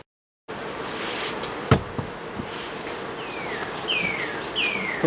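Honey bees drone and buzz at a hive during a check on whether to add another honey super, a close, steady hum after a brief silent start, with a few faint bird chirps.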